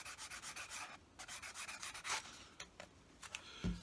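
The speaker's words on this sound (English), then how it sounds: "You just rub it off." Rapid rhythmic rubbing strokes on a Wright Flyer Dancing Wings VC01 model aircraft wing, close and fairly soft, slowing into a few scattered scrapes and a light knock at the end.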